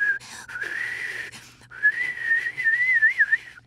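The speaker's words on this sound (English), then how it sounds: "We've been hearing all sorts of whistling," An old train's whistle in a cartoon gives a warbling, wavering tone, close and fairly loud, broken by a short noisy gap before the whistling resumes.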